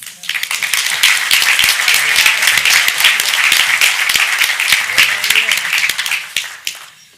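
An audience at an employee ownership conference claps in a dense, sustained round of applause welcoming Kathleen Clyde, fading out over the last second.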